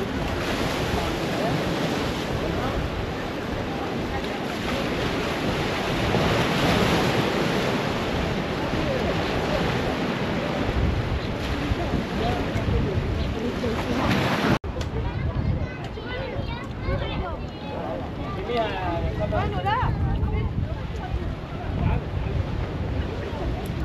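Sea waves wash and wind buffets the microphone at Jaffa Port in Israel, a steady broad roar that continues throughout, loud and close, with a brief cut midway.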